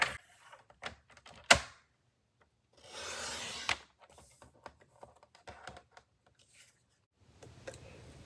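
Card stock is cut on a paper trimmer at close range, with sharp clicks and taps, a sliding rasp of the blade, then a few soft handling knocks, set in a quiet room.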